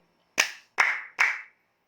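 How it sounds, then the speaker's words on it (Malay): Three crisp hand claps, evenly spaced about half a second apart, close and clear against silence. "tepuk tiga kali"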